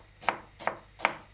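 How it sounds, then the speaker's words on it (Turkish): Medium onions being chopped into small pieces on a board: three crisp, evenly spaced knife strikes, close and clear, with no talking. "4 adet orta boy soğan, bunları soyup küçük küçük doğramaya başladım"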